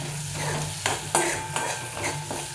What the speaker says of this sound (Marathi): कमी गॅसवरच परतून घ्यायचं